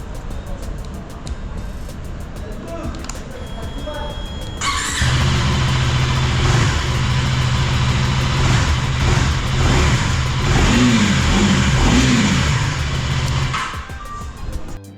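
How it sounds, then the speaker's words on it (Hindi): A 2024 KTM Duke 390 motorcycle engine idles quietly, then revs up sharply to a loud sustained roar for several seconds before dropping back down. "इंजन की आवाज़ सुन लेते हैं"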